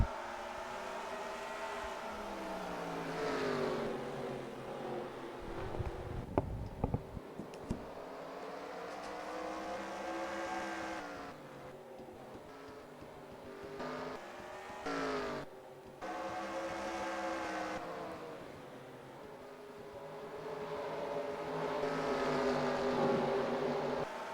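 Race car engines roaring around the short Bristol oval in the NASCAR Racing 2003 video game, a continuous droning pack with engine notes rising and falling as cars pass, some brief crunching hits midway, moderately loud throughout.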